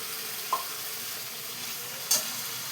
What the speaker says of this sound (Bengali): এইবার এতে দেখো এই যে চর্বিগুলো দিয়ে দিচ্ছি।